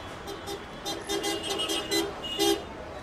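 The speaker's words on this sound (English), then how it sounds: "As dusk falls and rush hour arrives," Busy rush-hour traffic at dusk in India, with a rapid scatter of short car horn toots from several vehicles over a low traffic rumble, moderately distant.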